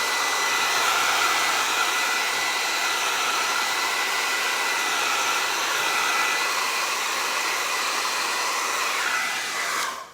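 Blow dryer running steadily close by while drying resin art, a loud, even whooshing hum that holds for several seconds before cutting off at the end.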